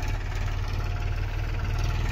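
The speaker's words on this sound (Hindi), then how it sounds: "अभी ये ट्रैक्टर बाहर निकलेगा" A Farmtrac 35 tractor engine runs steadily in a field during jowar sowing, a loud, continuous low diesel rumble with a regular throbbing pulse, close by and with no talking.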